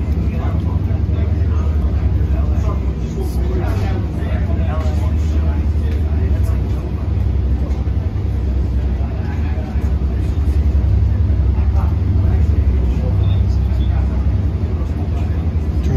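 Diesel engines on an LIRR train from Penn Station to Montauk rumble steadily and loudly through a tunnel, a continuous low drone with faint passing rattles throughout.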